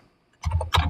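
A couple of quick, close key presses on a computer keyboard, sharp clicks coming after a short moment of quiet.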